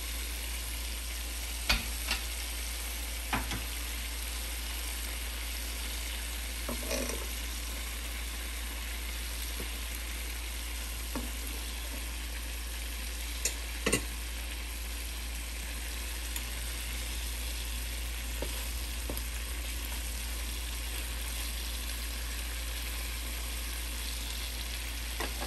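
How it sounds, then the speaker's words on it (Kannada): Chicken drumsticks in a honey, gin and garlic preparation fry in butter, a steady low sizzle held for a long stretch with occasional sharper pops and crackles, fairly quiet and with no talk. "ಈಗ ಮತ್ತೆ ಕವರ್ ಮಾಡಿಬಿಟ್ಟು ಇನ್ನೊಂದು 10 ಮಿನಿಟ್ಸ್ ಫ್ರೈ ಮಾಡೋಣ."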